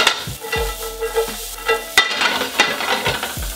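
Chopped onion sizzles in a hot frying pan with ginger for sweet-and-sour chicken, a steady crackling fry broken by scraping stirs and utensil clinks close up, no talking.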